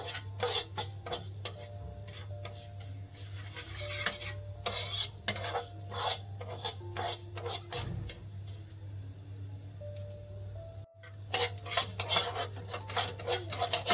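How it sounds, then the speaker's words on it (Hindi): Semolina frying in a pan for a sweet dessert, stirred nonstop with a spoon: rapid, irregular scraping and clinking taps against the metal over a faint sizzle, close and fairly loud, with a brief pause partway through. "इस तरह से ही लगातार चलाते हुए फ्राई करते रहिए।"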